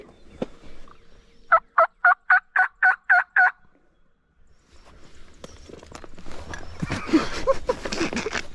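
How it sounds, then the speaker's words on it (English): A wild turkey gobbler sounds off right off the roost in open country during a spring hunt: one loud, close gobble of about seven rapid pulses, followed by rustling footsteps and movement. "There's turkeys everywhere, dude."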